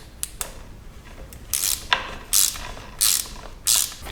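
A hand ratchet working to loosen the tight lower fork pinch bolts on the triple clamp of a Honda CRF250L motorcycle, several close, sharp clicking ratchet strokes in short bursts, alone in a quiet space.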